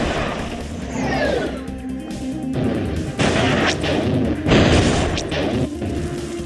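Cannons fire in the Star Wars Galactic Battlegrounds strategy game, with repeated heavy booms and crashing impacts over a dense battle din, some blasts sharp and close, others layered and rumbling.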